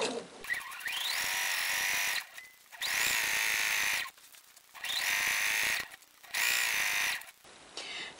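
A sewing machine with a quarter-inch foot stitches fabric for a pillowcase in four steady bursts of whirring, each lasting about a second and a half and separated by short pauses, heard close up with no talking.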